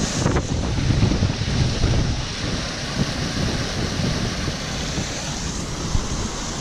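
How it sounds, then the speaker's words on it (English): Constant rushing surface water runoff from a housing estate flowing nearby in a drainage channel, a broad steady roar mixed with gusty wind buffeting the microphone. "this is just surface water runoff from the housing estate further upstream"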